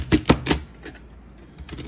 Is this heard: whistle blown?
no